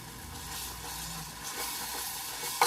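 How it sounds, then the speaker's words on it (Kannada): Ginger garlic paste frying in a pan with cooked onions and tomatoes, a steady soft sizzle running without a break, with a brief stir or clink right at the end and no talking. "ಚೆನ್ನಾಗಿ ಹಸಿ ವಾಸನೆ ಹೋಗೋವರೆಗೂ ಚೆನ್ನಾಗಿ ಫ್ರೈ ಮಾಡ್ಕೊಳ್ಳೋಣ"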